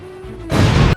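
A railway detonator goes off in a Thomas & Friends scene. One sudden, loud bang bursts out after a quieter tonal background and rumbles for about half a second before cutting off.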